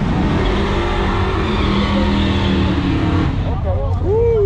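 A truck accelerating hard down a drag strip at a summer truck meet, a loud sustained engine roar that fades into distance amid crowd noise, with a voice briefly audible near the end.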